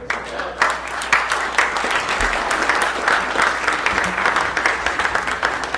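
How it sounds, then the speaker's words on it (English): A conference audience in Dallas breaks into steady, loud applause after a presentation on the JFK assassination, a continuous wash of many hands clapping that holds evenly throughout. "give me another round of applause for Vince Palamara"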